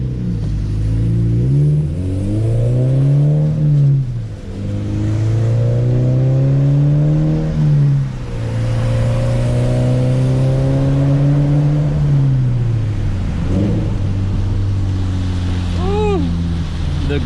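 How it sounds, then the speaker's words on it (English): A car fitted with an ACE CS400 EL setup, stock before a header install, revs repeatedly in long rising and falling sweeps, loud and close, with the engine note climbing and settling several times. "I do want you guys to hear the sound of the car now so that we can hear it later on"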